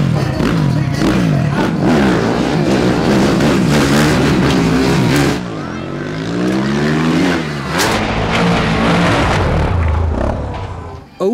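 Cars and motorcycles rev hard at a monster truck stunt show. Loud, close engines roar and rise and fall in pitch through repeated acceleration sweeps, nearly continuous, with the sound dropping out briefly at the very end.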